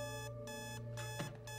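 An alarm clock in a TV show beeps in short repeated bursts separated by brief pauses, faint and steady, with no voices.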